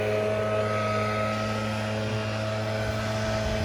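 A leaf blower runs during residential lawn care in Florida, giving a loud, continuous engine drone with a steady, tonal hum that stays at constant level, with no talk.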